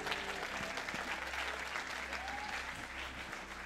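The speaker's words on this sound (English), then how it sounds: "Clap, please, and encourage everybody." A congregation applauds at a baptism service at a river, a steady, soft wash of clapping heard from a distance over a low hum.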